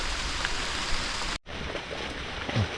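Rain falls steadily in a forest, a dense even hiss broken by a brief drop-out, with no voices.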